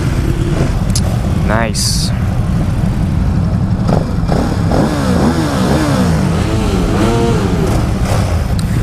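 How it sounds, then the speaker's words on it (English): A Ducati Supersport sport bike starts and revs at a season opener event, loud steady engine drone with rising and falling rev sweeps near the end, a brief voice speaking over it. "All right, first startup. Ducati Supersport."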